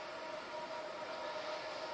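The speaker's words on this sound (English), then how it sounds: "I'm afraid the train's going to be a little bit loud." A train passes nearby with a steady, loud, broadband rumble and a sustained tonal hum, continuous throughout with no talking over it.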